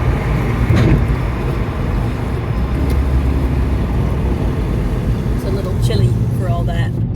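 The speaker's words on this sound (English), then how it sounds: "at least you got to appreciate the pretty dump truck" A large dump truck pulls away on a chilly street, its low engine rumble steady and fairly loud. A voice talks over it.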